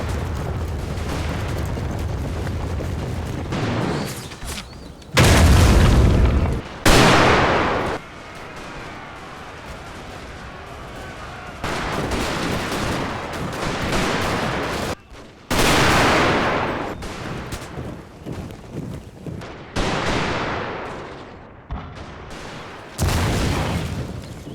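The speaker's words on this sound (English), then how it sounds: "The British infantry opened fire, supported by the Gatling guns and rockets." Battle in the Total War video game: British infantry volleys, Gatling guns and rockets fire in repeated loud bursts and booms between quieter rumbling gaps.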